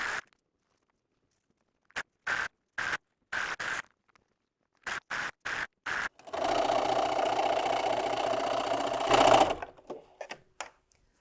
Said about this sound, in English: I'm going to sew them in pairs and then add the other one so I can chain piece